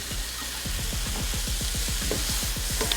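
Broccoli, carrots and onions frying in a pan while being stirred, a steady sizzle broken by a quick rhythmic run of spatula scrapes and clicks.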